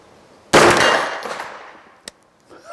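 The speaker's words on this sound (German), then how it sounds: "Erster Schuss, Scheibe abgefallen." A single Schmeisser AR15-9 9 mm shot strikes a falling steel plate at 50 metres: one loud sudden crack with a ringing decay, then a small clank and faint rattle as the plate drops.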